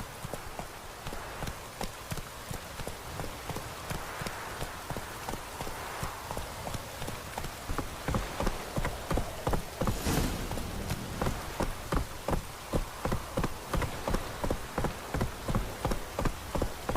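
Horse hooves gallop in The Witcher 3 video game, a steady rapid clip-clop that builds louder and more regular through the second half, with a faint rain-like hiss underneath and no talking.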